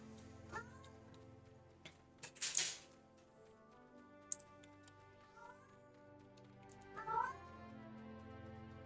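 A pet cat meows a few times in a quiet room, faint and intermittent, with game background music underneath.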